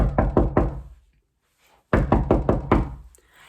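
Knocking on the door of a house by someone locked outside: a quick run of four firm raps, a brief pause, then five more, loud and close with no voices.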